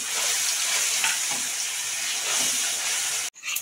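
Ground mustard paste fries in a pan with a steady, close sizzle and hiss that runs unbroken, then cuts off abruptly just before the end.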